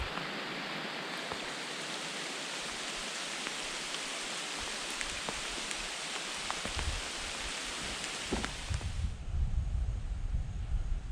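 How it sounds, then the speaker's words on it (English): Steady heavy rain pours down in a dense, continuous hiss on a river trip, growing rougher and louder near the end as drops drum closer. "Got a lot of rain."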